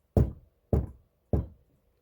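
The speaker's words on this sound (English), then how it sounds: "Her reverie was interrupted by a loud knocking at the door." Three loud, evenly spaced knocks strike a door, each a sharp thud with a short decay and silence between them.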